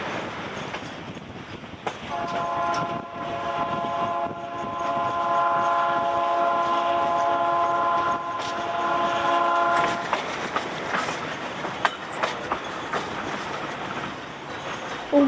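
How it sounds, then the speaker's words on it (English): A train on the Lima to Huancayo railway in Peru backs down a zigzag reversal with its engines pushing. Its horn sounds a long sustained blast over steady rumbling and clatter of the cars, followed by irregular clanks and clicks. "We are now going backwards with the engines pushing."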